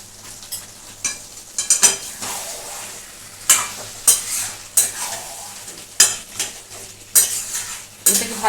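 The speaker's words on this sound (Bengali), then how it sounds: "এগুলো আমি সব এর মধ্যে মিশিয়ে দেবো।" Fried shrimp being stirred into jackfruit curry in a pan: close, repeated metal spoon scrapes and clanks against the pan at an irregular pace over a soft sizzle, with no voices.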